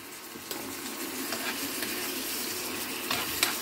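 Green pepper quarters sizzle and fry in a hot pan for a tilapia and potato meal, a steady close crackle with a few light stirring clinks and no talk.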